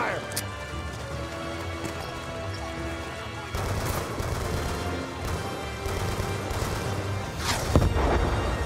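Sustained cover fire in Call of Duty: Black Ops 2 in a Vietnam jungle setting, with steady rattling gunshots under near-constant shouted dialogue and a louder crack near the end.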